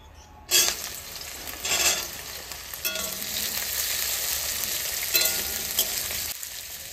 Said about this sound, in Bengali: এবার উচ্ছেটা ভেজে নেব